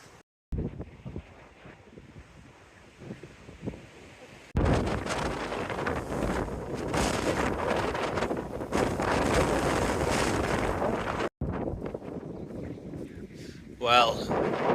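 Strong, steady wind buffets a hilltop wild camp in the Peak District with a Rab summit bivi shelter, roaring loud and close against the microphone after a quieter opening, with brief gusty lulls.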